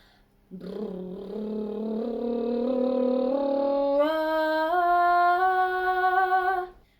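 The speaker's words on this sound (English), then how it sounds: "You can also try lip rolls into an R sound" A voice hums through buzzing lip trills into an R sound, gliding upward in pitch and stepping up in a steady scale, sustained for several seconds before stopping.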